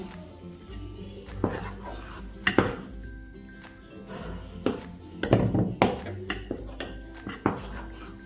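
A spoon or hand works maida into a sweet shankarpali dough mixture in a bowl, giving scattered clinks and knocks against the bowl, louder in short clusters, over a low background hum.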